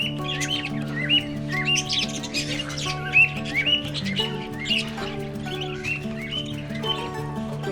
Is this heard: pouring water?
no